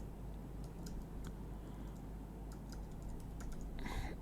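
Soft, scattered keystrokes on a computer keyboard as a key pair name is typed, faint and irregular over a steady low hum of room noise.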